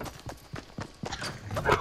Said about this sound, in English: There's so many footsteps.